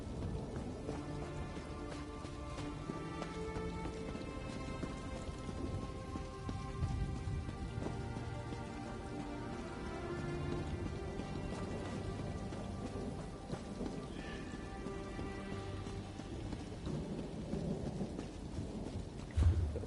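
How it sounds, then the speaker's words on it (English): Steady rain pours in the online game Elder Scrolls Online, with low thunder rumbling underneath throughout and a dense, constant wash of sound and no voices. "the rain's gonna get my fur wet"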